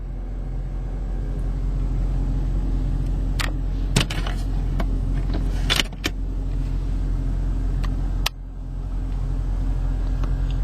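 A 2011 Dodge Challenger SRT8 with the 392 Hemi V8 idles with a steady, close, deep rumble. A few sharp clicks and clunks break in partway through.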